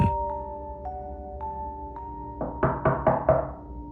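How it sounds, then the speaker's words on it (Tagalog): A knocking sound effect, rapped on a door from inside a room, comes as a quick run of about five loud wooden knocks near the end, over sustained eerie musical tones. "Natigilan ako nang may kumatok mula sa loob ng kwarto."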